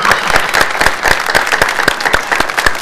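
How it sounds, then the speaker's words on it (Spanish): Steady, loud applause from a crowd fills the space, with dense rhythmic clapping continuing unbroken throughout. "Siguen los aplausos."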